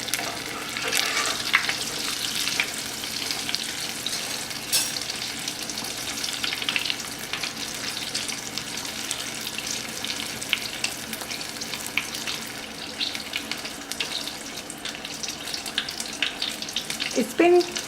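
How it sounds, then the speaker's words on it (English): Stuffed potato balls (rellenas de papa) frying in hot oil give a steady, close sizzle and bubbling throughout, with brief utensil handling as they are turned. "I can see it's starting to turn brown, so I'm going to make a turn"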